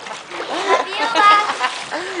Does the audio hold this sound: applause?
no